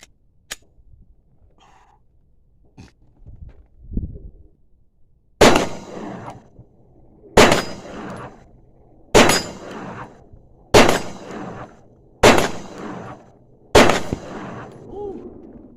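Six loud, sharp shots from a SAR 9 9mm pistol crack out one at a time, evenly spaced about a second and a half apart, each trailing off in a short echo after some quiet handling noises.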